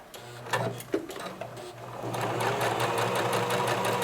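A sewing machine stitches fabric close to a seam, starting with a few short bursts and then running in a continuous fast rattling whir, fairly quiet and close.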